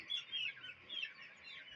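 Many small native (desi) chicks chirp in rapid, high-pitched peeps during beak trimming, a continuous busy chorus close by.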